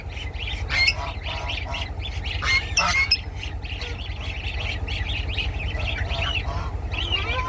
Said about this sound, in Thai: งามอีลีห่านนะ